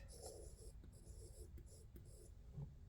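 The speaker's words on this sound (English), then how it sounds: "you want to open up the Notes app and you want to, if you want to write something on it" An S Pen Pro stylus writes across the screen of a Samsung Galaxy Tab S8 Ultra, giving soft, continuous scratchy strokes with brief pauses, very faint and close.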